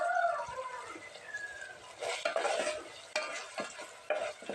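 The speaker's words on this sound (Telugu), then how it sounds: "ఉల్లిపాయలు అయితే కొద్దిగా ఫ్రై అయ్యిందండి" Onions frying in a pan and being stirred, a soft sizzle under repeated scraping strokes of a spatula against the pan, fairly close and moderately quiet, without talk.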